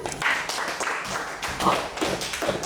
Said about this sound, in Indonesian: Tepuk tangan buat teman.